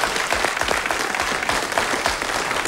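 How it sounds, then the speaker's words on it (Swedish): Steady, dense clapping from a studio audience on a 1997 Swedish television talk show, close and continuous throughout with no talking. "Det kan hon få en applåd för"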